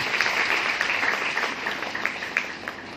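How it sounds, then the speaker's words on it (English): An awards-ceremony audience applauds for a school principal, steady scattered clapping from a crowd in a hall, moderately loud with a few sharper claps standing out. "Can we have a big round of applause for Sandhya Pratap ma'am?"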